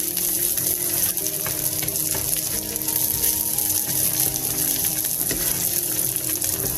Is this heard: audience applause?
no